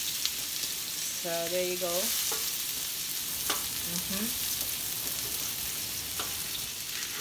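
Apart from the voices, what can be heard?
onions sizzling in a pan for pancit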